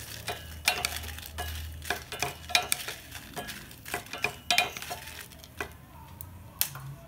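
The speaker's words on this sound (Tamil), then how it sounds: "கொஞ்சூண்டு நெய் விட்டுன்ட்டு இந்த மிளகாவத்தல் வறுத்துக்கணும்" Dried red chillies roasting in a little ghee in a pan while being stirred, giving a faint sizzle under repeated scraping strokes of a spoon against the metal, in irregular bursts.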